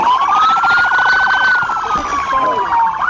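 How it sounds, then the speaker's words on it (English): A police car siren wails loud and close, its pitch rising and falling in a long sweep, with brief shouting voices partly over it. "Goddamn siren off!"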